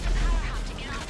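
A heavy, booming rocket launcher explosion in the game GTA V rumbles up close, with a deep low-end thud and rolling blast noise.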